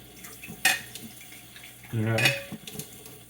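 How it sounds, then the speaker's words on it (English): Dishes being washed at a kitchen sink: a sharp clink of crockery, then a brief gush of running water with another clatter of plates and cutlery, fairly close. "is doing all these dishes"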